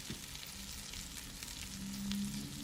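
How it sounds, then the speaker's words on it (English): Butter sizzling in a pan over medium-high heat, a soft, steady crackling fizz at close range, quiet and continuous, with no voices. "we have the butter sizzling"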